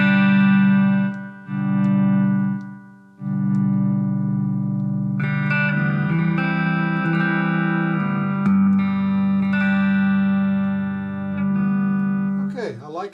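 Electric guitar played through an in-body single-JFET booster that emulates a tube, with a little amp reverb, sounding as sustained tuned chords and notes that swell and ring out, with a brief pause early on and a strum near the end.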